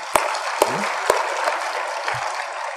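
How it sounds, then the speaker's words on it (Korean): A church congregation claps during a Sunday service, a steady wash of applause punctuated by a few loud, sharp individual claps close to the microphone. "박수 쳐서 하나님께 영광을"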